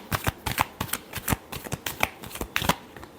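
A tarot deck is shuffled by hand up close, with a fast run of crisp riffling flicks and sharp card snaps in an uneven rhythm, and no voices.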